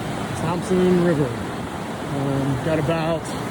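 The Thompson River flows on the Foothills Trail with a steady, broadband rush of moving water, and a voice sounds briefly over it.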